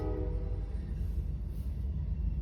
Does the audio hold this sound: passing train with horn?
yes